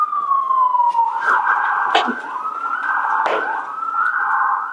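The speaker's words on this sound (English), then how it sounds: "It's just an ambulance." A wailing ambulance siren sweeps up and down in pitch, loud and fairly close, heard inside an abandoned funeral home, with a few sharp knocks and clatters over it.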